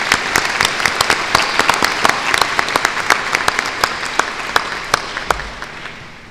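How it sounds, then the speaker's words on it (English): A large commencement crowd applauds doctoral degree recipients at a university spring ceremony, loud sustained clapping with many distinct claps standing out, fading slightly at the end. "Let us applaud the doctoral degree recipients."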